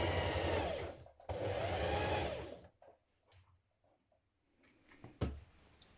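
A sewing machine runs two steady bursts while stitching a 1.5 cm seam on an unlined winter coat, the first about a second and the second about a second and a half, followed by quieter handling clicks and rustles.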